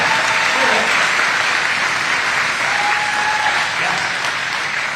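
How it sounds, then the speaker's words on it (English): Sustained applause from an audience at an outdoor political barbecue in Michigan, many hands clapping steadily for several seconds, fairly loud, with faint voices and a brief whistle in the crowd. "Give them a round of applause."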